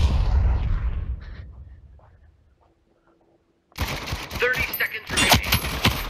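Gunfire and a bazooka blast in the Spatial Ops video game. A loud rumble fades into near silence, then dense rapid shots and impacts burst in sharply and continue loudly to the end.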